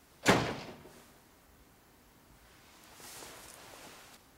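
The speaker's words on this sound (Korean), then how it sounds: "옆집 문소리 다 들리고" A door in a neighbouring flat, heard through the wall of a small apartment: one dull thump early, then quiet, then a faint rustling shuffle near the end.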